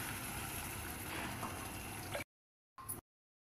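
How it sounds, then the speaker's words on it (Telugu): Water is poured into a pan of mutton, fenugreek leaves and tomato curry, a steady rushing splash lasting about two seconds, then a brief short pour. "ఇప్పుడు దీంట్లో 3 గ్లాసుల వాటర్ ఎసరిపోయాలండి"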